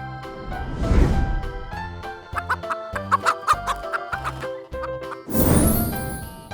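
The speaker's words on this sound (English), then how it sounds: "Hen." A hen clucks in a quick series of short, rhythmic notes, set against a tuneful musical backing with louder noisy bursts around it.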